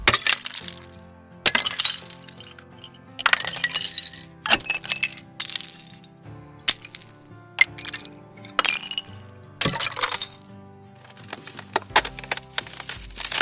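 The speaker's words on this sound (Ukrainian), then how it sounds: "Бурульки" Icicles tinkling and snapping apart, bright glassy clinks and sharp breaking bursts arriving in irregular clusters with short quiet gaps between, close and clear, no voices.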